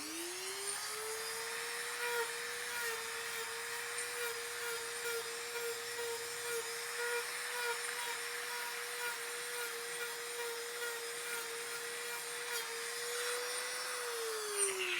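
Dremel rotary tool with a sanding drum texturing foam: a steady high-pitched motor whine rising at start-up, holding constant for over ten seconds, then winding down, with faint grinding contact noise underneath.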